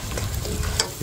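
Masala for chicken jalfrezi fries in oil in a pan, a close, steady sizzle with light stirring scrapes through the short stretch.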